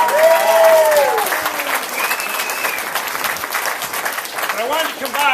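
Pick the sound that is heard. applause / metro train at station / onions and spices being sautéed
applause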